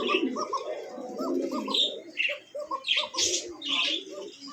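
Almond and silver colored male pigeon coos in repeated throaty bursts, close and fairly loud, mixed with other bird chirps and background voices.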